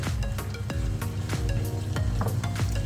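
Stock is stirred into flour in a roast-chicken pan to make gravy, giving rhythmic scraping strokes over a continuous close bubbling sizzle.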